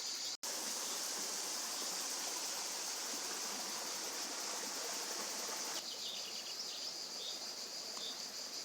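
Steady, faint rushing of a river flowing, with insects chirping throughout and an abrupt drop in the high hiss partway through.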